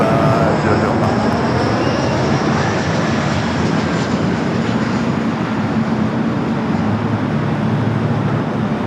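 EVA Air airliner taking off from runway 24 left at LAX, a loud, steady broadband engine roar that holds throughout, with a voice speaking under it.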